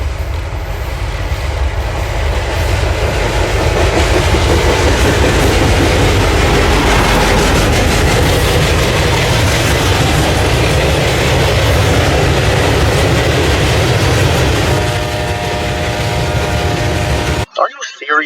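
CSX freight train led by locomotive 9032 with a fresh SD70 Mac trailing rolls past close and loud, a dense continuous roar of engines and wheels with a brief horn-like tone near the end.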